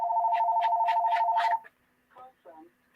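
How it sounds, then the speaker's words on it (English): A phone rings with a steady warbling electronic tone for about a second and a half, loud and close, then cuts off, followed by brief speech. "Oh, now my phone's ringing."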